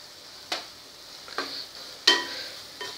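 Spices with turmeric, cumin and coriander powder sauté in curry masala for a spring onion curry, heard as four separate sharp stirring scrapes with brief sizzling bursts, evenly spaced over a quiet background.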